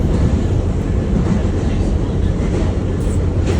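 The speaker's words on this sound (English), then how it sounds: "So this is just me riding and showing you the route on the train." Steady low rumble of a public transit train carrying riders toward the airport, a dense continuous rolling drone with faint rattles throughout, close and constant.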